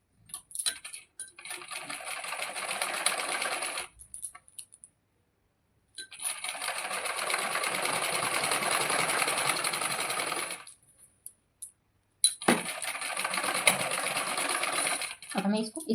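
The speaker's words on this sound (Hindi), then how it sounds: "नीचे से इसमें सिलाई को लगाएंगे" A sewing machine runs in three steady bursts while stitching tucks on a blouse, whirring and ticking rapidly and up close, with brief silent pauses between runs.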